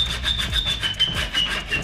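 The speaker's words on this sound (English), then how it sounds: "I don't want to get the grinder out because I'll probably just use this hacksaw." Hacksaw cutting bolts in a garage, a steady back-and-forth rasping of short, even strokes, close and fairly loud with no talking.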